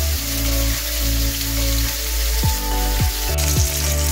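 Chicken tikka pieces fry in oil in a covered pan, giving a steady, even sizzle and crackle beneath a background music track.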